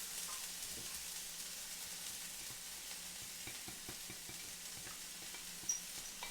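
Garlic and spices sizzling with softened onions in a pan for a vegetable tagine, a faint, steady frying hiss with light ticks and crackles, no talk.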